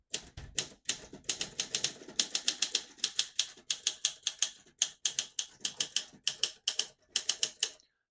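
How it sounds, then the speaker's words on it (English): Typing on a 1960 Olympia SM4 vintage portable typewriter, printing a line in red ribbon: bursts of crisp, close key strikes in uneven rhythm, with brief pauses between groups of letters and no talking. "type a sentence in red on the next line and switch from black to red"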